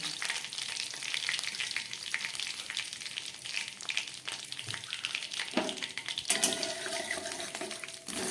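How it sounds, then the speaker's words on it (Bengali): White and black cumin seeds tempering in hot oil left from frying katla fish produce a dense, continuous crackling sizzle, close and steady, with a few brief clatters near the end. "এবার এই মাছ ভাজা তেলের মধ্যে আমি একটু সাদা জিরে আর একটু কালো জিরে ফোড়ন দিলাম।"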